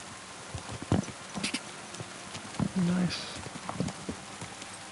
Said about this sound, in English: what's that horse doing there?